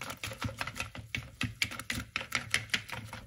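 A whisk beating an omelette mixture of eggs and water in a bowl at home, a fast irregular run of clicky metallic taps close by, with no talk over it.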